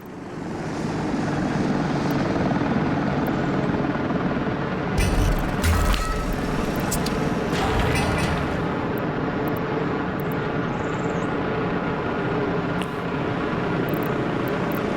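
Aeroplane engines drone steadily overhead in the Soviet Republic city-builder Workers & Resources, a dense, continuous propeller roar that stays loud throughout with a brief surge midway and no talk.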